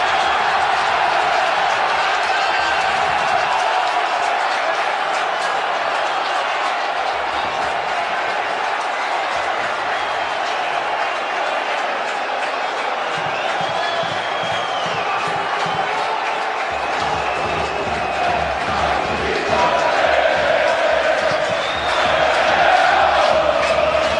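A stadium crowd roars and cheers at Stadion Lauta after Alpha Conte scores for Lokomotiv Plovdiv, a sustained loud cheer that carries on throughout with chanting and whoops.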